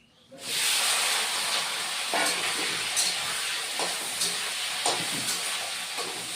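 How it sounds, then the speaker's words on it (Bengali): Parboiled potato and eggplant pieces hit hot oil in a pan and burst into a loud, steady frying hiss that holds throughout, with occasional crackles and faint stirring knocks. "এখন এক মিনিটের মতো আলু আর বেগুনটা বন্ধুরা ভেজে নেব"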